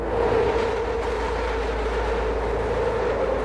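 A train rumbles along an elevated line overhead in northern Philadelphia, a steady continuous low roar with a broad hum that stays loud throughout, with no voices.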